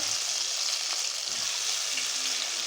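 Chicken pakora pieces fry in very hot ghee with a dense, steady sizzle that fills the whole stretch at an even, close level, and no voices are heard.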